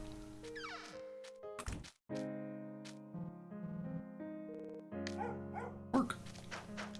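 A dog companion in the video game Astlibra barks in sharp bursts over looping in-game music and sound effects, with several distinct yips and thumps spread across the stretch.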